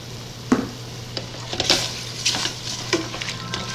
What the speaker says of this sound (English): You just want to cook those shrimp till they're about pink